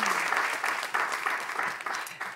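Studio audience applause on a Serbian television health program, a steady, dense round of clapping that holds at moderate loudness for a couple of seconds with no talking over it.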